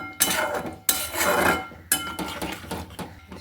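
A metal lid set onto a cooking pot while preparing a vegetarian bean and poppy seed curry, giving three sharp clanks spaced about a second apart, each followed by a brief metallic ring, close and clear.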